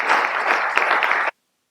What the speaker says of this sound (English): So we all give a round of applause for all of them.